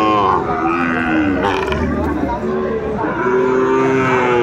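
Sahiwal calves and cattle low with drawn-out, tonal moos at a busy livestock market, one loud bellow rising over the crowd's steady hubbub and chatter.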